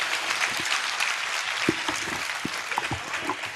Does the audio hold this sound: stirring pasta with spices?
no